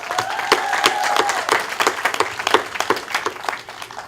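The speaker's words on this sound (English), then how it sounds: "So y'all join me in giving William a round of applause" Crowd at an outdoor park dedication breaks into a round of applause honoring a community member, many hands clapping steadily and fairly close for the full stretch without any talk.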